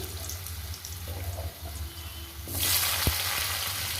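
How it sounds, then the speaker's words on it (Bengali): Potatoes frying in a pan with five-spice seeds, a steady sizzle that swells into a louder, broader hiss partway through as the potatoes go in, with a single sharp clink. "কয়েক সেকেন্ড ভেজে নেব দিয়ে দেবো আলুগুলো"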